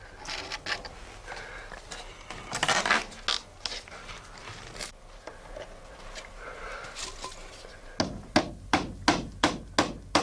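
Nails hammered into the kelson strip of a wooden Shannon One Design boat keel in an Irish boatbuilding workshop, with scattered knocks and creaks early on, then a steady run of six loud, evenly spaced hammer blows close by.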